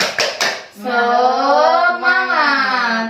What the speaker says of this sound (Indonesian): Ayo, kurang keras. Tepuk semangat.